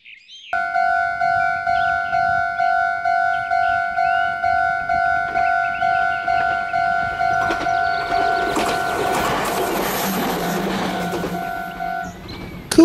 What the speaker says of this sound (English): Hey Stanley, it's a train crossing.